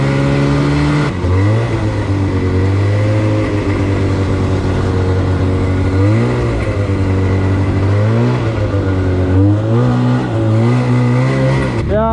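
A snowmobile engine revs hard on a groomed snow trail, loud and close, rising and falling through several throttle surges with a steady droning pitch in between.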